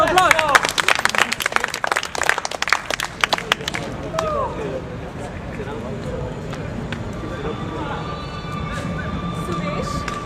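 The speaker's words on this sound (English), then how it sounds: "Let's start them up with a round of applause." An audience gives a round of applause at a live improv comedy show, starting as dense clapping with cheers and fading into lighter scattered claps and crowd murmur.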